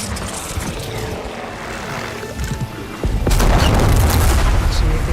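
A bomb is dropped and explodes in Horizon Forbidden West: a steady engine-like drone gives way to a sudden heavy blast whose loud, rumbling roar sustains to the end.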